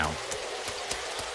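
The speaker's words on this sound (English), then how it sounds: "And it's starting to rain now." Rain in the Sonic EXE The Assault video game, a steady hissing wash of falling drops with a few soft thumps, continuous and fairly quiet.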